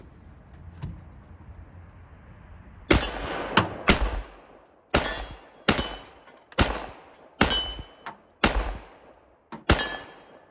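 A Colt 1911 pistol fires a volley of about eight sharp, loud gunshots outdoors, spaced roughly a second apart, each with a brief echoing decay, following a quiet lead-in.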